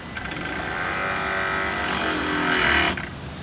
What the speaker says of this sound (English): You heard the pump kicked off